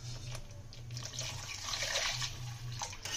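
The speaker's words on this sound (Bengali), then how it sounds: "আমরা একটু জল দিয়ে দেবো।" Water poured into frying egg curry masala, a close, continuous splashing pour with a low bubbling hiss beneath, moderately quiet.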